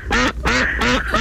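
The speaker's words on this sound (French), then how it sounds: "C'est un canard." A squeezed toy duck quacks three times in quick, even succession, loud and close, with a fourth quack just starting at the end.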